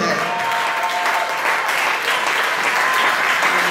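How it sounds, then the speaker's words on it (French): A church congregation applauding loudly and steadily at a service, a dense sustained wash of clapping from many hands with voices mixed in. "Acclamons très très fort le Seigneur."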